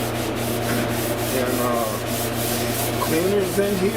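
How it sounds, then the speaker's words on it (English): A red abrasive scuff pad rubs over a Buick's car body panel during autobody repair, producing steady, close, rhythmic scratchy strokes with a constant low hum beneath and a brief voice in the background. "this is just the scuffing stuff. I want to put it on that red scuff pad"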